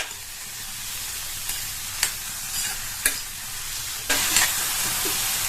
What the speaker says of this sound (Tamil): நல்லா நம்ம சேர்த்த எண்ணெயிலேயே இதை 1 நிமிஷத்துக்கு ஹை ஃப்ளேம்ல வச்சு வதக்கிக்கங்க